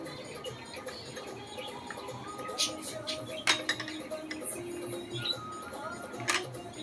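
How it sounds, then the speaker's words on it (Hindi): A spoon works red rice, coconut and curd together in a bowl, making quiet, scattered clinks and scrapes against the dish at an irregular pace. "इस तरीके से दही, नारी और चावल का एक मिश्रण तैयार करते हैं।"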